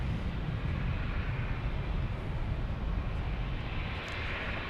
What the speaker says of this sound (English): Next arrival will be a 737-900 from Chicago O'Hare.